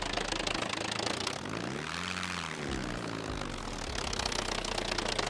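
Propeller plane engine in the survival game SCUM, droning steadily and close throughout, pitch rising and falling in a smooth arc as the aircraft maneuvers, with no voices.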